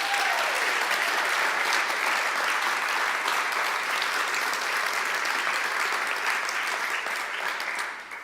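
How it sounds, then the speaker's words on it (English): A TEDx event audience gives a long, even round of applause, a thick crowd of clapping hands that fills the room steadily and tapers off at the very end. "Let's give her another round of applause"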